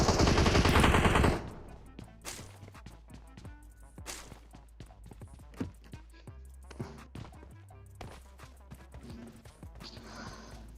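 Gunfire in the battle royale game PUBG: a burst of sharp, rapid shots at the start, then scattered single cracks and short volleys at varying distances, with players talking over the game sound.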